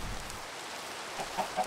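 Chickens in the Minecraft video game clucking faintly, a few short soft clucks near the end over a quiet background with no speech.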